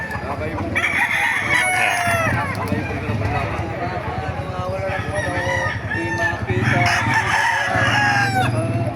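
Several roosters crow loudly and repeatedly, overlapping one another, with clucking fowl and some voices in the background, at a gamecock market in Baliuag, Bulacan, at about 5 in the morning.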